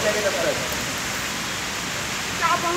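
Steady rain hissing down continuously outside a gym in Andheri, with brief faint voices at the start and end.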